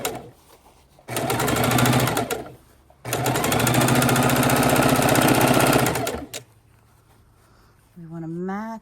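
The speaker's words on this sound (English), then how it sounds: "And now, my friends, we have begun to sew our rows together." A sewing machine stitches quilt rows together in two loud, close, rapid bursts of steady mechanical whirring, the second longer, with quiet pauses between and a voice speaking briefly at the end.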